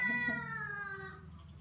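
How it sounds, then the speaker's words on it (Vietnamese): Several cats meow and caterwaul insistently at breakfast time, overlapping drawn-out cries at close range, fairly loud and steady with no talking. "các chú mèo đã tập trung hết ở gần đây và đang kêu gọi mình ra ăn rồi"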